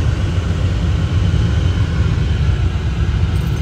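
A vehicle passes behind on a Canadian road as a steady, loud low rumble and road roar lasting the full few seconds, with no voices over it.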